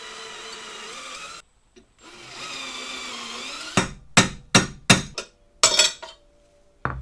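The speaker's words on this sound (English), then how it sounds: "What I need to do is drill out this little bracket that there is back here" A drill whines steadily while cutting out a small bracket behind a car headlight, stops, then gives a run of six or seven short, loud bursts that end with a final brief spurt, all close and with no talking.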